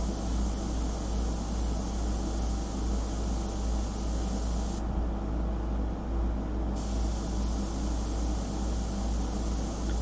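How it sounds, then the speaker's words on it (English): An airbrush sprays paint for a full-colour fashion portrait, giving a steady, even hiss that runs unbroken and close throughout, with no voices. "The airbrush is working really well."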